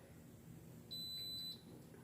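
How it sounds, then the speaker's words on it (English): A single high-pitched electronic beep, about half a second long, from an Instant Pot finishing cooking in an otherwise quiet room. "it's beeping now that it has finished the 9 minutes"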